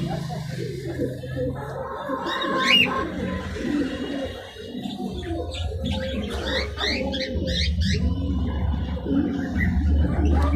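Shami pigeons in a loft give soft, low cooing and rustling, with scattered higher chirps from other birds, while someone talks over them throughout.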